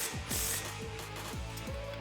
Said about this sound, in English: So we are going to start our bottom bolt. All right, so we're going to tighten this lower bolt. Tighten our top bolt.